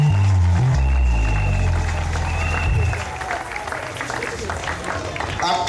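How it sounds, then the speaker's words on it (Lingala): A church congregation clapping their hands together, dense crowd applause running through the whole stretch, loud at first and then a little softer, with voices speaking and calling out over it. "Tobetele maboko."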